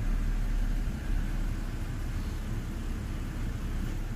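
BMW N52 engine idling with a low, steady rumble heard up close, with a slight roughness now and then in the otherwise even hum.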